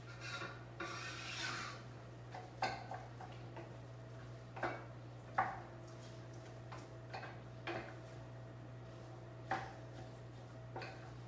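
Meat and added ingredients are stirred together in a pan for nachos, with scattered scraping and clicking strokes of a utensil against the cookware over a steady low hum, fairly quiet.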